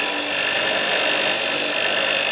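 A key buffer's wheel removing burrs from a freshly cut key, a loud, steady close whirring and rubbing hiss throughout.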